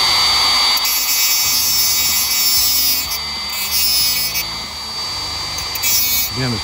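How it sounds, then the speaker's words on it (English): Dremel rotary tool with a cutting wheel grinding on a Ford Model A steering column horn and light switch rod, a steady high buzzing whine held close for several seconds with small dips in pitch. "I'm gonna do that with my Dremel again."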